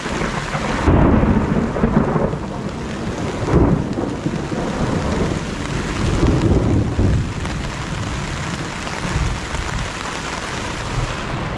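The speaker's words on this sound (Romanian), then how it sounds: "Fulgeră, tună!" A strong mountain thunderstorm: heavy rain pours steadily while loud rumbling thunder crashes and rolls repeatedly, with wind buffeting the microphone.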